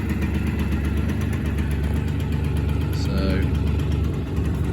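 A 1986 Honda MT5 moped engine runs steadily at a near, constant idle after a cold start, with a brief spoken word over the continuous motor drone.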